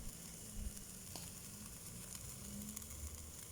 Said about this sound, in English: Yeah, you can hear the sizzle.